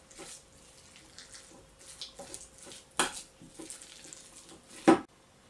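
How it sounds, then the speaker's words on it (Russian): Mayonnaise and a fish filling for toast are stirred in a bowl, giving soft repeated scraping and clinking of a spoon close by, with a couple of sharper knocks. "Размешиваем."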